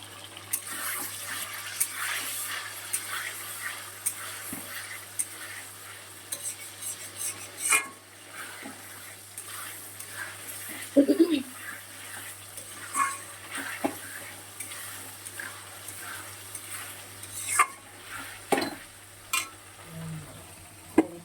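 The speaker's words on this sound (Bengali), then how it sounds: "দেখো ডাল সিদ্ধ হচ্ছে।" Dal (lentils) simmering in a pot with a little water, a soft continuous bubbling hiss punctuated by irregular clinks and stirring knocks, close and moderately quiet, no voices.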